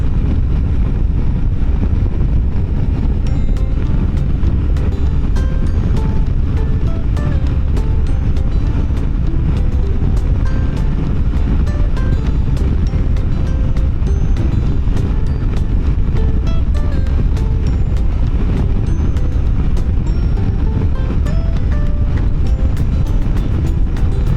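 A motorcycle cruises along an expressway at 120 km/h, producing a steady, loud roar of wind buffeting and engine drone that stays constant throughout, with no talking.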